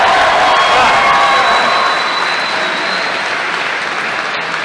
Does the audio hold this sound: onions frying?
no